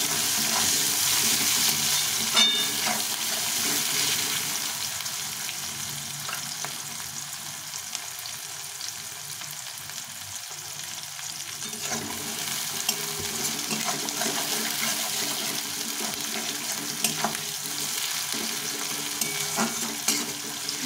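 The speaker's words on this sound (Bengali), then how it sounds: "পেঁয়াজটাকে ভালো করে ভেজে নিতে হবে।" Onion sizzles in hot oil with dried red chilli and cumin in a pan, a steady close crackling hiss with occasional stirring scrapes, heard alone throughout.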